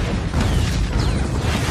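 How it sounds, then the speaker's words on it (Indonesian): A bag shot repeatedly until it explodes in an action movie scene: a loud, dense rumbling blast fills the whole short stretch with heavy low boom and crackling debris. "Hobbs menembaki tas tersebut sampai meledak"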